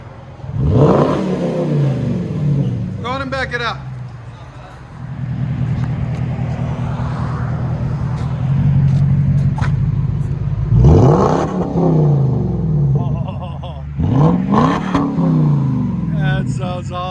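A 2009 Jaguar XK with a 4.2L V8 and straight-pipe dual exhaust revs loudly and close, with sharp rising blips and a sustained throaty roar between them, while people talk briefly at the start.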